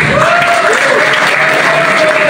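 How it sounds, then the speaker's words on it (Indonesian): Steady applause from a crowd of university students fills the space, with a faint sustained tone running underneath throughout. "tepuk tangan dulu"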